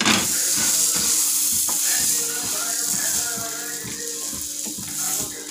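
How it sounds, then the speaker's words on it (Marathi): Burger buns frying on a hot tava with pav bhaji masala, a continuous loud sizzle with a regular rhythm of scraping, clicking spatula strokes against the metal. "मस्त बन तळून घेऊ आपण मस्त छान."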